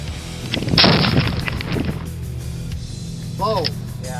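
A rifle shot strikes a Sonic Boom exploding target, giving a loud, sharp blast that rolls and echoes across open ground, followed by quieter outdoor rumble and a faint whistling sweep.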